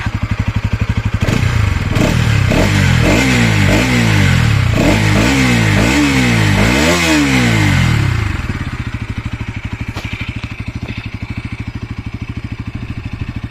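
Bajaj Pulsar NS200 2024 motorcycle revved repeatedly from idle, loud rising and falling engine bursts in quick succession, then dropping back to a steady thumping idle, close by with no talk.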